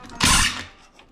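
A screw pulled out of metal drywall corner bead while widening a doorway, a single short scraping creak lasting about half a second, close and fairly loud.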